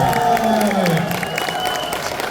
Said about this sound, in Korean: 저 소름 좀 더 돋게 박수 좀 크게 쳐주십시오